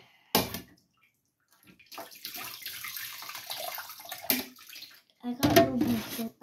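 Water from a household kitchen sink gushes and splashes in short bursts as a six-year-old girl washes dishes, with quiet gaps between pours and a voice heard faintly.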